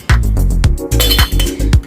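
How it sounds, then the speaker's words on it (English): Ice cubes clink and tumble into a glass while a raw mango mojito is made. Several loud, sharp clinks come close together, with no speech. "add ice cubes again as per as your choice."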